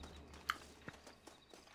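Horse hooves in the Red Dead Redemption video game, a few quiet, spaced clip-clop steps over a low background hum.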